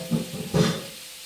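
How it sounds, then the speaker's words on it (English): Brief hissing sizzle from something frying in a hot pan, rising sharply midway then tapering off, close and moderately loud. "You can hear that sizzle as soon as it goes in."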